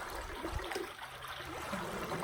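Soft, faint swishing of pool water stirred by slow figure-8 movements, a gentle continuous flow with small splashy surges.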